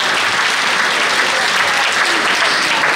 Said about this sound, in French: Est-ce que ça peut s'applaudir chaleureusement?